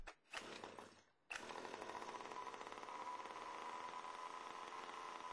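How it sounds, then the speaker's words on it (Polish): A gas-powered Baja 5B RC model car engine catches after a brief pull, then runs steadily at a loud, buzzing idle that holds close and constant to the end. "Odpal silnik, tak jak to zostało pokazane wcześniej."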